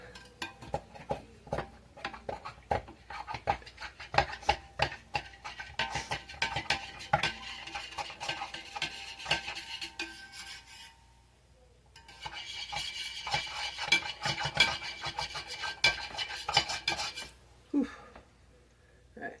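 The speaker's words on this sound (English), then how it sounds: "I hate the sound of metal on metal though." A metal straw clinks and scrapes rapidly against the inside of a metal cup in bursts of rattling stirring, with a brief pause midway.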